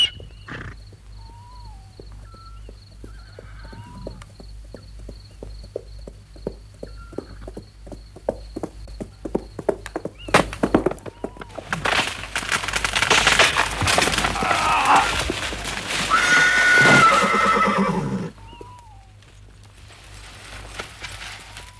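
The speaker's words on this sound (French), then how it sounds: "Un cavalier seul au grand galop." A lone horse with rider moving at a gallop, rhythmic hoof clip-clops that grow louder and nearer, then a loud rushing, trampling burst as it passes close, fading away again, with birdsong and a low hum behind.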